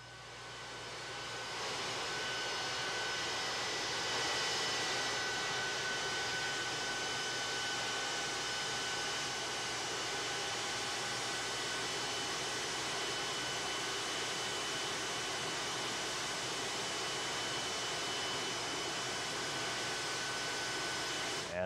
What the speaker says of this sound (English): the plane now on the ground pulling into the hangar out there at Ellington